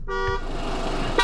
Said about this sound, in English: Now the horn sounds like this.